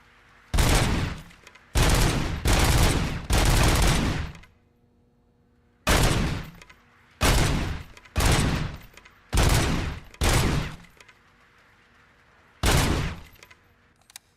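Gunfire in the video game RoboCop: Rogue City comes in loud, dense bursts of automatic fire, about nine separate volleys of roughly half a second to a second each, separated by short silences and with no talk.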